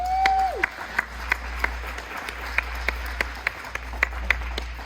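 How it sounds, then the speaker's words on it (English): At an 89th birthday celebration in East Lansing, Michigan, a small group claps in scattered, sparse bursts, individual claps distinct over a low background hum, with a brief rising tone at the start. "Give him a big round of applause"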